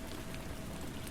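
Steady rain patters against a bathroom window, a dense, even hiss of drops with soft scattered taps, continuous and moderately quiet with no voices.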